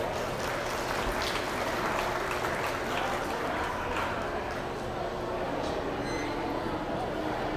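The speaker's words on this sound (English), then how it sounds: "let's give them again a round of applause" Crowd applause fills an arena at a beef cattle showmanship event, a steady dense wash of clapping held at even loudness throughout, with faint voices mixed underneath.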